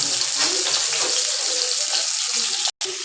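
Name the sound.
pointed gourd (potol) frying in oil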